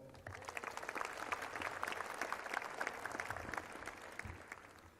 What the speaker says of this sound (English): a nice round of applause for Robert Kroll.